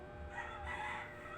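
A rooster crows once, a drawn-out cock-a-doodle-doo heard at moderate distance over a steady background hiss, with no voices.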